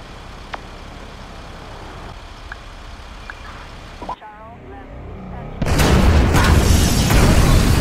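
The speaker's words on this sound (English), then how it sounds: "Detonate the incendiaries, Frank." Incendiary explosives going off during a bureau raid in GTA 5, a sudden loud roaring blast that swells into a sustained, dense burst of fiery rumble after quieter ambient game sounds and a brief muffled moment.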